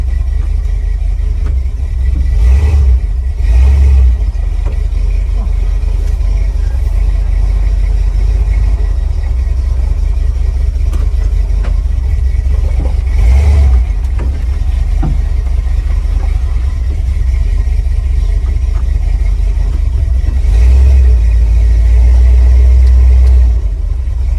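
An old, long-abandoned 1979 or 1985 Ford F-250 pickup truck drives slowly with a heavy low engine rumble and drivetrain drone, loud and continuous, with occasional deeper surges.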